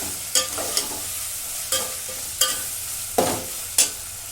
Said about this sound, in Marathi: थोडीशी हिंग टाकून घेते हिंग परतून घेते